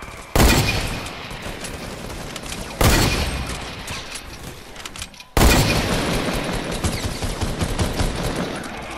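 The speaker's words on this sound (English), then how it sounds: "People are shooting." Bursts of gunfire in the Fortnite video game, three sudden loud volleys of rapid shooting, each trailing into dense sustained fire, with no talk over them.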